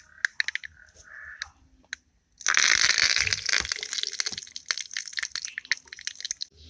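Curry leaves drop into hot oil with popping mustard seeds while rasam is being made. A sudden loud burst of sizzling and crackling follows earlier scattered small pops, then settles into continued spitting and popping.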